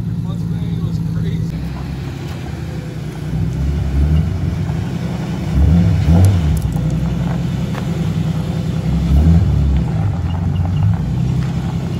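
A single-turbo Nissan 350Z drift build runs loud and steady, its low engine rumble swelling in a couple of brief surges partway through, with no talk over it.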